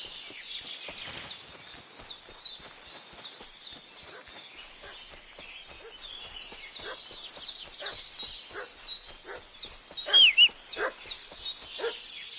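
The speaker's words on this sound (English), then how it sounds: "What's that dog making such a fuss about?" Dog barking and fussing in the medieval video game Kingdom Come: Deliverance 2, a run of repeated sharp barks at a steady rhythm over a faint outdoor ambience, with a louder burst near the end.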